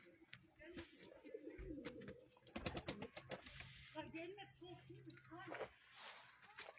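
Soft domestic pigeon coos repeat in low rolling phrases, mixed with faint rustling and a person talking quietly nearby.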